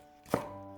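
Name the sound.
knife cutting a deseeded green pepper into thin strips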